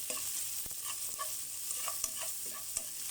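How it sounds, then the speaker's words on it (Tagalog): Food sizzling and frying in a hot pan, with occasional scrapes and stirring clinks from a utensil, fairly quiet and steady. "Igigisa muna natin bago natin lutuin."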